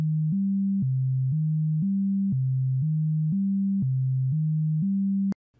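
A ChucK sine oscillator plays a steady sequence of clean, pure tones, stepping through chord notes in an even rhythm for about five seconds before cutting off abruptly, with no other sounds.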